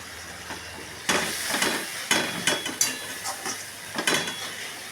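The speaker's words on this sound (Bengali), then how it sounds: "ভালো করে মশলাটা কষানো হবে" A spatula stirs and scrapes spice paste in a pan for a rui fish dish, with several sharp metallic scrapes and knocks in uneven bursts over a low sizzle, close and fairly quiet.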